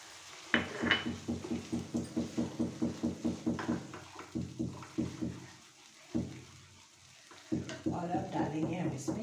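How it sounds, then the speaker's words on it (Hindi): Spoon stirring a curry with almond and cashew paste in a pan, a steady rhythmic scraping and knocking with sizzling, pausing twice before resuming with a soft bubbling fry. "और इसको हम चलाते रहेंगे"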